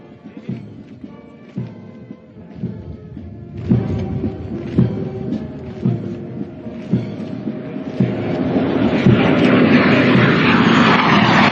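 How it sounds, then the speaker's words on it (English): Three Kiran jet trainers of the Indian Air Force fly past in formation at a cadet graduation ceremony, a rising broadband jet roar that swells and grows louder toward the end over rhythmic band music. "may I direct your attention to the 3 Kiran aircraft formation led by Wing Commander Samit Eldulkar"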